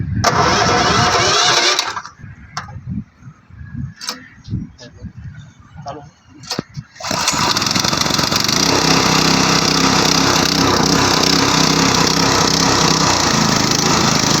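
Engine of a cricket ground machine starting: several short, uneven cranking bursts, then the motor catches and settles into a loud, steady running drone, close by.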